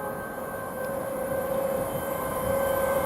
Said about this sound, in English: Now I can hear another train coming.